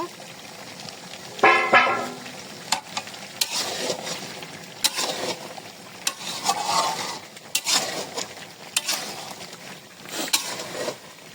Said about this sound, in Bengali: এবার আলুটা দিয়ে কিছুক্ষণ আবার একটু কষিয়ে নেব